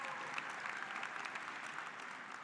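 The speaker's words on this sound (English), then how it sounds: "Can we give them a big round of applause?" Audience applause at an engineering graduation recognition ceremony, a steady, dense wash of clapping from a crowd, fairly distant, continuing evenly throughout.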